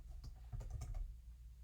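Fingers type on a computer keyboard while entering a secrets.env file in the nano editor, giving a short, soft run of quick key clicks at close range.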